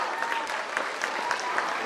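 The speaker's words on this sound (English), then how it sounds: "Please give them a round of applause as they are already there on the stage clicking the picture." Audience applause at a school annual prize distribution and cultural programme, a steady dense patter of many hands clapping for performers on stage, fairly near and continuous throughout.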